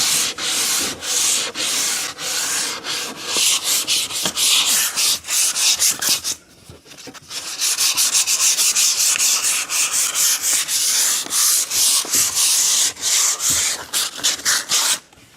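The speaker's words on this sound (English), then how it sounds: "I'm going to sand it again real quick." Sandpaper rubs a wooden board by hand without a block in fast, rhythmic back-and-forth strokes, loud and close, with a short pause partway through before the scraping resumes.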